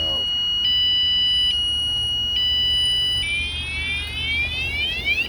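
Alarm on an Ecotric 20-inch fat tire e-bike sounding very loud and close, a piercing electronic tone that switches through pulsing patterns and then into rapid rising sweeps, over a background of outdoor rumble.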